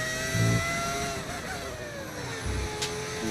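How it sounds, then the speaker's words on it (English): A Formula 1 car in the F1 25 video game screams through the Monaco tunnel, its high engine note sweeping down in pitch across gear changes with a short echoing resonance, moderately loud. "The engine sounds really good going through the tunnel."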